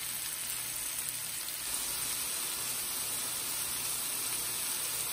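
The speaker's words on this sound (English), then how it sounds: "I just added the mushrooms on top of the onions, and I am sauteing this in the bacon fat" Mushrooms and onions sautéing in bacon fat give off a steady, even sizzle. The hiss holds at the same level throughout, with no voices over it.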